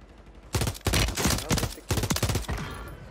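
Rapid bursts of automatic gunfire in the shooter game Warzone 3, likely the DG 56 rifle, loud and close in several clustered volleys with brief gaps, no talk over it.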